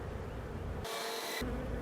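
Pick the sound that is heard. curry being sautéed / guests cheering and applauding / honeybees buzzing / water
honeybees buzzing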